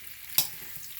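Onions fry in a pan for chop suey, a faint steady sizzle with one sharp scrape of a stirring utensil partway through.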